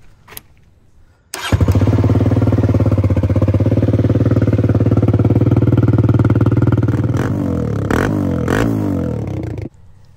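A Kawasaki KLX140 dirt bike engine cranks and catches after a faint lead-in, then runs loud and steady close by for about eight seconds with a few throttle blips near the end before shutting off.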